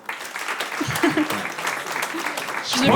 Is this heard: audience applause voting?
yes